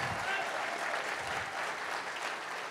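An audience's applause after a talk on biblical cosmology fills the moment, a continuous, even wash of clapping with no break.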